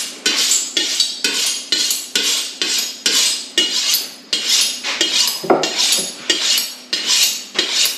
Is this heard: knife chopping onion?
yes